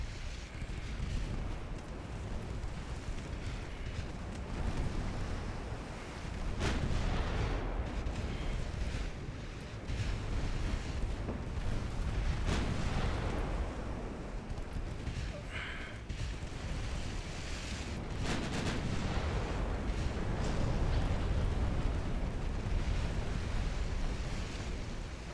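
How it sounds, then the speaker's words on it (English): Warship main guns fire during a naval battle in Ultimate Admiral Dreadnoughts, a handful of sharp booming blasts standing out over a steady roar of sea and wind, with no talk. "Please fire the main guns at the fucking cruiser."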